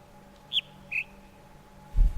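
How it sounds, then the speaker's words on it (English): A bird in the video game The Witness gives two short, high, whistled calls about half a second apart, clear against a quiet ambient backdrop, followed by a low thump at the end. "Thank you, screaming bird."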